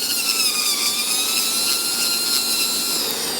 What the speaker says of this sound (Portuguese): No baixa rotação, usando o contra-ângulo e o adaptador para a broca